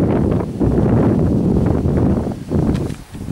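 Strong gusty wind buffets the microphone on the exposed Moel Y Parc hilltop, a dense low rumble that swells and briefly dips near the end.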